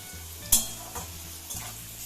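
Potato pieces fry in hot oil in a pan, a soft continuous sizzle broken by a sharp scrape of a spoon against the metal and a few lighter stirring knocks.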